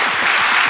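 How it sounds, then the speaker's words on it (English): A short burst of audience applause at a design talk, close and dense, filling the whole moment without any voices. "Could I get a little clap for this man over here?"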